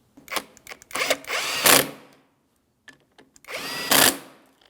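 A power drill or impact tool runs in two bursts while tightening the rear brake caliper bolts on a 2007-2014 GMC Sierra 2500 HD. The first burst stutters on and off, and the second is a steadier whir, with a pause between them.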